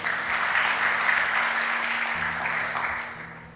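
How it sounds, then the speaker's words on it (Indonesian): Church congregation claps together during a sermon, a dense, continuous round of applause over sustained low organ or keyboard tones that shift partway through, gradually easing off. "Tepuk tangan buat Tuhan Yesus dulu"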